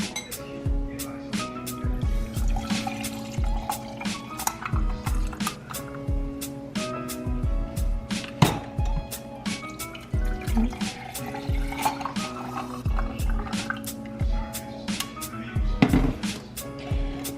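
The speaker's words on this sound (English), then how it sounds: "I'm just gonna pour the Thai tea in the glasses." Thai tea is poured over ice in glasses, a running liquid trickle under frequent sharp clinks and cracks as the cubes shift, close and steady with several bright knocks.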